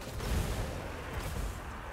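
Artillery fire in Total War: Warhammer 2, warp lightning cannons and opposing batteries trading shots, heard as a continuous low rumbling battle din with a heavier boom early on, moderately loud and steady throughout.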